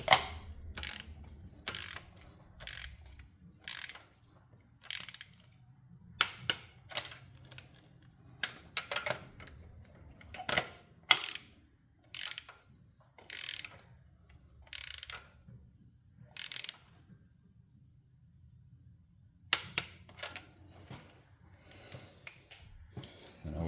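Click-type torque wrench on 2013 Kia Soul 1.6L spark plugs, a series of sharp ratcheting clicks in uneven bursts with short pauses between, close and crisp against a quiet background.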